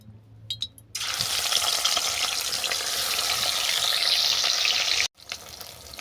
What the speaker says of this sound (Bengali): মাছ ভাজার জন্য আমি সর্ষে তেল গরম করতে দিলাম তেল গরম হয়ে গেছে এরপর মাছগুলো আমি উল্টো পাল্টে বাদামি করে ভেজে নিচ্ছি